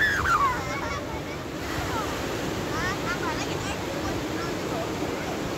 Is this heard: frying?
no